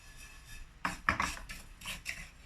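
A spatula scrapes and tosses fennel seeds and sesame in a wok, making a few irregular rasping strokes and light metallic scrapes over a quiet background.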